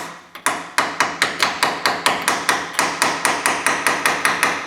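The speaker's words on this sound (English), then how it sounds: "Take a hammer or whatever, clean out your bolt really good, kind of tap it in place." Steady metallic hammer taps driving a bolt into place on a Chevrolet S10 lift spindle, about twenty sharp strikes in an even rhythm, close and fairly loud with no voices.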